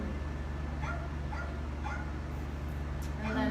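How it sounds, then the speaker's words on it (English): Dogs play fighting give a few short, faint yips and barks scattered over a steady background hum, partly mixed with a speaking voice. "So he'll kind of do the play fighting with Jedi"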